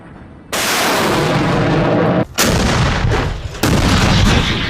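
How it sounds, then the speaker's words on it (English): Syrian Army artillery firing near Hama before troops enter the city's outskirts: a loud, sustained roar of booming blasts from about half a second on, broken by a brief lull and then renewed heavy firing, with no voices. "Artillery was prepared by Syrian Army before entering the outskirts of Hama"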